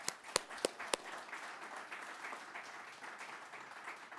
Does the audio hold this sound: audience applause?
yes